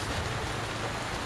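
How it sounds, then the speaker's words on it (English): Steady rain falls at an outdoor summer festival, a dense, even wash of noise with no breaks, fairly close and on its own without voices. "I got caught in the rain"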